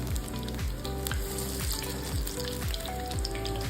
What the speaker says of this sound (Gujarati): મીડિયમ ફ્લેમ પર આપણે ભજીયાને તળી લઈશું